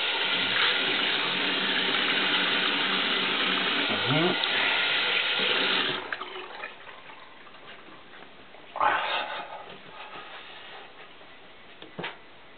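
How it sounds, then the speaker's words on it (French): A razor is rinsed under running tap water while shaving, a loud steady rush for about six seconds that then stops, followed by a few faint clicks and knocks. "Alors, un petit rinçage."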